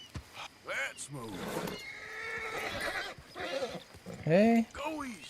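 A horse in the video game Red Dead Redemption II lets out a short, loud whinny near the end, among game sounds and someone talking.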